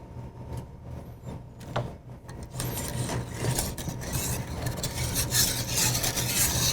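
A whisk or rubber spatula scrapes and stirs vanilla custard in a pan, making continuous close rasping and rubbing strokes that grow busier and louder after the first couple of seconds.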